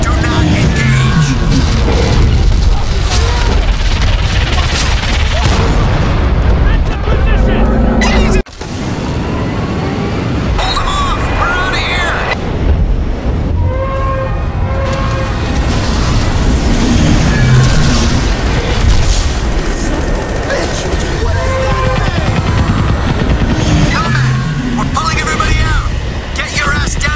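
Artillery fire in the video game Crysis Remastered: loud, heavy booms and rumbling blasts in a dense battle soundscape with engine-like roar, under near-constant talk, with a brief drop in sound partway through.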